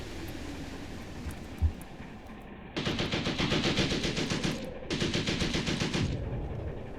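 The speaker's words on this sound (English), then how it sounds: "They have machine guns, SMG guns, and everything in there." Machine gun fire in a WWII tank battle game set at Chouigui Pass, Tunisia, in 1943: two long, loud, rapid-fire bursts, each lasting about two seconds, following a single distant thud.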